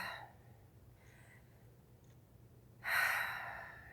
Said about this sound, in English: now I need you to take a deep breath